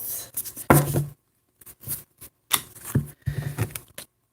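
A deck of tarot cards being shuffled by hand, giving bursts of crisp riffling and slapping close to the mic, separated by short pauses.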